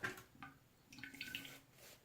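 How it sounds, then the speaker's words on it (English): Water dripping and lightly splashing onto skin to wet it during a straight-razor kamisori shave, soft scattered drips close by with no talking. "Let me just wet this a little bit here."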